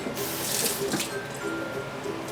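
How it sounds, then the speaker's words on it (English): Water from a kitchen tap runs steadily while a knife is rinsed under it, with splashing and spray noise close by and small shifts as the blade moves through the stream. "I like to rinse off my knife."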